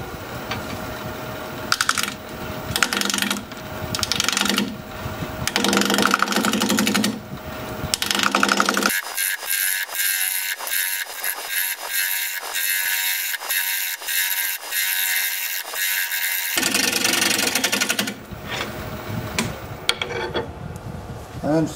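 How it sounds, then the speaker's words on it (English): Wood lathe spinning a mesquite bowl at 700 RPM while a 5/8 inch bowl gouge cuts, a continuous close whirring and scraping with a gap where the cut stops partway through, no talking. "Going to be turning at 700 RPM. 5/8 inch bowl gouge, mask and face shield on."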